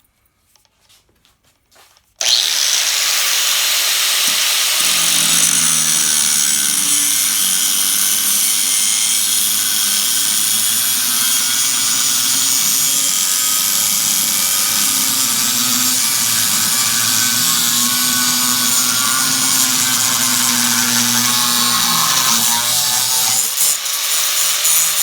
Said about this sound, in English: with the axle mounted in my vise and that's securely in place, I'm going to use my cutoff tool